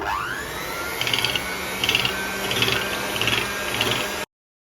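An electric hand beater whirring steadily in a bowl of room-temperature butter and eggs for a vanilla sponge cake, with a bright motor drone and a rhythmic pulsing scrape as the beaters turn, loud and close until it cuts off.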